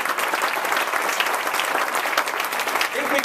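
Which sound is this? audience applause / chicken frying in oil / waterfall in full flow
audience applause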